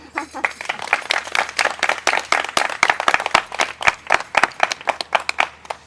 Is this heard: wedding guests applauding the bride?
yes